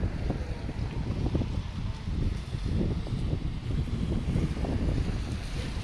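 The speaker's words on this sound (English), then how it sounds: "Got a little bit of wind, but I don't think it's gonna affect my microphone all that much." Outdoor wind buffets the microphone during a walk around Dartmouth, a continuous low, rumbling roar that fills the clip with no one speaking.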